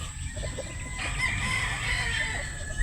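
A broad stag rooster crows once, loud and close, its long call rising and holding over a quiet farmyard background.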